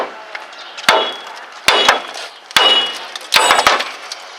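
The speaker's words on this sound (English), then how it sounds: "I'm just going to take the hammer and hit this a couple times" Hammer striking the lower ball joint of a Chevy S-10, four sharp metallic blows in separate bursts, some with a quick double rebound, over a low background hum.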